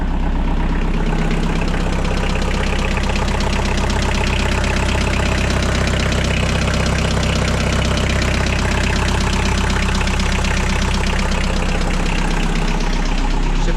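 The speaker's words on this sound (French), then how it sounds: "J'ai comme l'impression d'entendre des bruits suspects dans le bas moteur." A 4x4's engine idles loudly and steadily up close, with a rapid, regular ticking knock from the bottom end of the engine running through the low rumble for the whole stretch.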